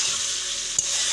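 Broiler chicken frying in a pan with spices gives a steady, close, crackling sizzle, with one brief scrape of a spoon and no voices.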